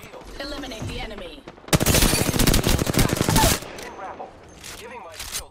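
Apex Legends gunfire erupts in a loud, rapid automatic burst lasting about two seconds, framed by voices talking before and after.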